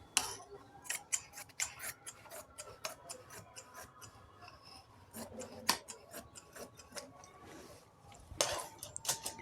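Scissors snip through fabric for a Patiala salwar in quick, crisp, close cuts, an irregular series of sharp clicks and slicing strokes with brief pauses between bursts.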